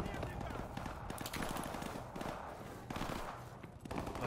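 Gunfire in the video game Call of Duty Modern Warfare Remastered: dense, continuous rapid shots and battle noise filling the whole stretch at a steady loud level.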